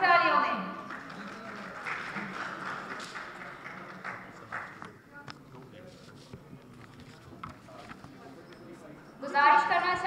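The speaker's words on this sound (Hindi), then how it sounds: "forward and receive her medal in your huge round of applause" An audience applauds a medal recipient walking onto a stage. The clapping is a steady, moderate patter mixed with a voice over a PA, and a sharper burst of claps comes at the end.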